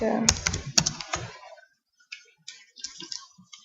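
Computer keyboard typing, a quick burst of sharp, close clicks and taps at the start, then a pause and a few sparser, softer keystrokes, with no talk over them.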